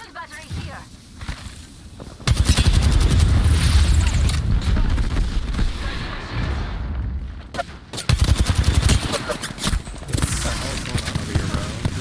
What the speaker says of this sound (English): there's gotta be people shooting in the back right now